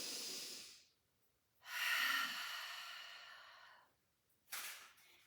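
Deep breaths during a Pilates reformer class: a breathy exhale fades out, then a long, loud inhale-exhale swells and slowly trails off, with another short breath at the end, close to the microphone and without speech.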